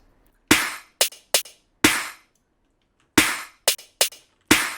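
A series of snare drum hits, bright and cracking, played in two short groups of four with quick ringing decays and silence between.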